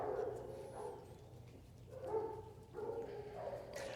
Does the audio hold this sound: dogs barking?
yes